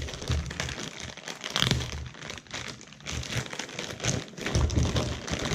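Plastic bag holding an HDMI cable crinkling up close, continuous rustling and crackling as it is handled, with no talking.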